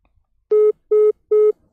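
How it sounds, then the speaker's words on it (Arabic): A telephone tone sounds as a call drops: three identical short beeps, evenly spaced, clear and close, with nothing else around them. "قطع التليفون"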